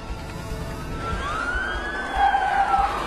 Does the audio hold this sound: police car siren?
yes